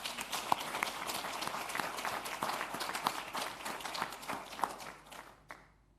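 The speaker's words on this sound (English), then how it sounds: "Can we start with a round of applause?" A small audience claps for dietetics graduates at a 2020 pledge ceremony, a faint, thin patter of scattered hands that tapers off and stops near the end.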